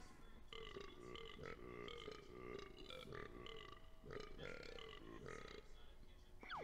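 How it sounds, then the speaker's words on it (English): A character's voice from the Banjo-Kazooie video game, made of a rapid run of croaky, gurgling burps that fill the whole stretch in steady bursts with short gaps. "It's a bunch of burps."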